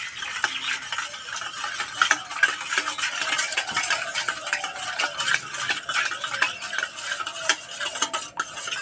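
A spoon briskly stirs semolina, sour curd, salt and sugar together in a bowl, with a rapid, continuous scraping and clinking rhythm, close up and with no talking.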